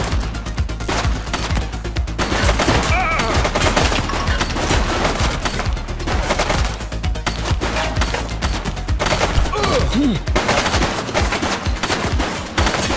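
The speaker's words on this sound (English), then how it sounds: "Shots fired!" Sustained bursts of automatic gunfire and scattered shots from a police shootout in the video game The Precinct, loud and continuous across the whole stretch with no talking.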